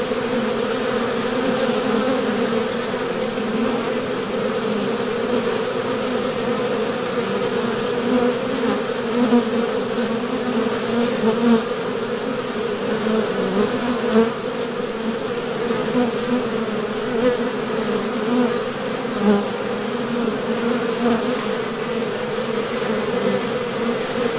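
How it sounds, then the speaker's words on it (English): A newly hived honeybee swarm buzzes close by in a dense, constant hum that stays steady without pause throughout. "So this swarm was hived on July the 25th."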